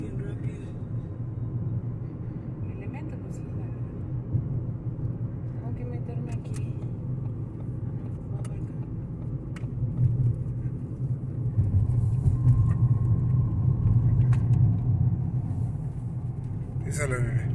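Car engine and road rumble during a driving lesson in Mexico, a steady low drone that swells slightly louder toward the end, with people talking over it throughout.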